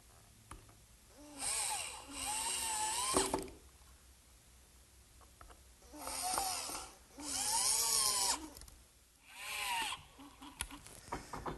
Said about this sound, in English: fasten it to the frame with some screws